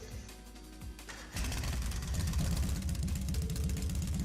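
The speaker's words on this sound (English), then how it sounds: "Alright, I'm going to start up the engine now." An orbal bike with a sidecar in the video game The Legend of Heroes: Trails of Cold Steel starts after a quiet moment, then settles into a loud, continuous, throbbing engine rumble.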